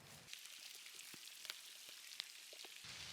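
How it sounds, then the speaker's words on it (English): Rain pours down outdoors during a metal-detecting outing, making a steady, faint hiss with scattered droplet taps and no talking. "the heavens have opened, it's pouring down with rain"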